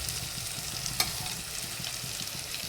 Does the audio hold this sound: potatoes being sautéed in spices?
yes